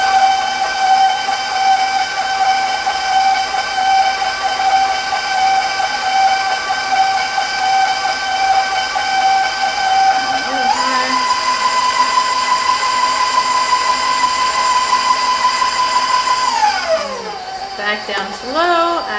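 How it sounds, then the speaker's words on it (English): An electric mixer beats chocolate cupcake batter with eggs, a steady, loud mechanical whine that jumps to a higher pitch midway as the speed rises, then winds down near the end. "now with the mixer on low, I'm going to add 2 eggs, 1 at a time"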